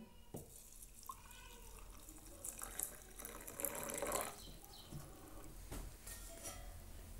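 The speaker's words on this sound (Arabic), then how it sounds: "الآن سأقوم بوضع الماء عليها الماء الساخن" Hot water poured into a drinking glass, a soft, faint trickling and splashing stream that swells midway and ebbs, with a few small clinks.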